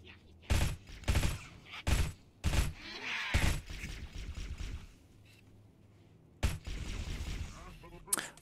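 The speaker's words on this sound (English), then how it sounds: "Please stop firing guns." Gunfire in the Halo SPV3 game: several sharp, loud bursts of shots in quick succession, then a pause with faint game noise before another long burst, with some talk in between.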